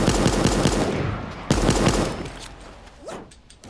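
Rapid automatic gunfire in Super Animal Royale rattles in close, loud bursts for about two seconds, pauses briefly, then fires another burst before fading into softer game effects.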